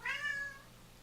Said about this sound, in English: Cat, shut up.